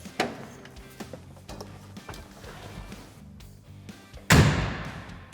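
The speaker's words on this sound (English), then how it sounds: "It's hard to beat the distinctly solid sound of a Western Star door closing." The cab door of a Western Star 5700XE truck shuts with one solid, heavy thump near the end, after some lighter handling knocks and thuds before it.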